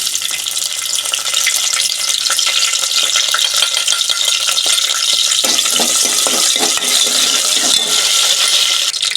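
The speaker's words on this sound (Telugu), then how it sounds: "పచ్చిమిర్చి వేస్తున్నాను." Green chillies and curry leaves fry in hot oil, giving a loud, steady broadband sizzle throughout, with a few sharper crackles and spatters near the end as the pan is stirred.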